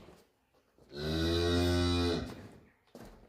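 A Simmental cow on a farm lets out one long, loud, deep moo lasting about a second and a half, close by, with quiet surroundings before and after.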